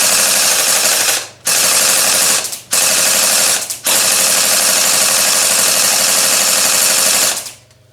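An SKD CS001S gel blaster fires loud, rapid bursts down an outdoor range: three short bursts broken by brief gaps, then one long sustained volley that stops abruptly.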